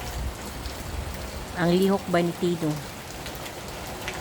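Steady rain falls throughout as a broad hiss, with a short stretch of speech in a local language rising over it partway through.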